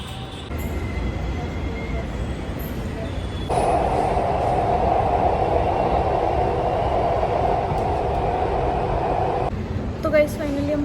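A Delhi Metro train on the way to ITO runs with a loud steady rumble and whine from inside the carriage, the drone rising midway and easing near the end.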